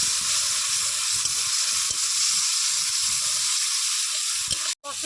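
Chopped tomato with salt and turmeric sautés in a hot pan, a loud, dense, steady sizzle with faint stirring scrapes, cut off abruptly at the very end.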